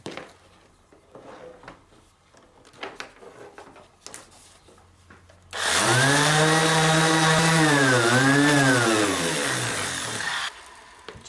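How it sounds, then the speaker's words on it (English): An orbital sander fitted with a 240 grit pad whirs into action on wood, starting abruptly after a few faint knocks and holding a loud, steady tonal drone with slight pitch wobbles for about five seconds before cutting off. "in my orbital sander, I've got a 240 grit pad"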